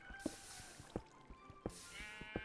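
Sheep bleat in the Minecraft video game on a sheep farm, several short repeated calls spaced through the clip over a faint steady background, with no voices.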